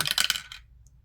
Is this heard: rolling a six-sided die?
yes